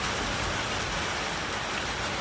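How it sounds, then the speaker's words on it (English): Steady rain falling on a wet day in Gulu, Uganda, heard from indoors as a constant, even hiss of drops with no pauses and no voices. "It's kind of nice to have the rain because it's cooling everything down"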